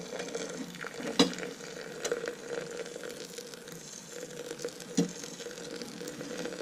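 Spoon stirring wet coffee grounds in a French press, soft scraping swirls with a few sharper clinks against the glass, quiet and close with no talk.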